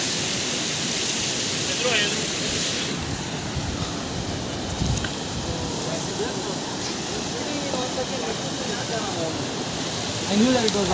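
Near Mcleodganj in Himachal, a waterfall gives a steady broadband rush with wind buffeting the microphone, while a person talks over the roar throughout.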